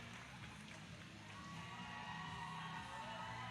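Arena crowd at an SFC 37 fight event roaring and cheering steadily after a bout, a dense, sustained wash of voices at moderate distance.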